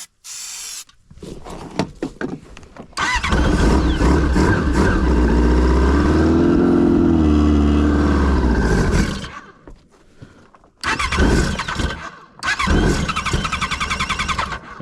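A Yamaha RX1 snowmobile engine, parked for months, sputters through several short cold-start cranks, then catches and runs loud and steady for about six seconds before dying. A few brief bursts of cranking and firing follow.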